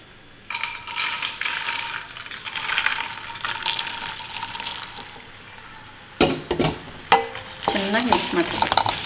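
Roasted dry fruits being stirred into sugar syrup for a popcorn treat: a steady sizzling, wet scraping stir that runs throughout, then a few sharper clanks and scrapes of the spoon near the end, with no talk.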